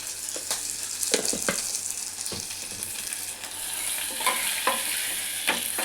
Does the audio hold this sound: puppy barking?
no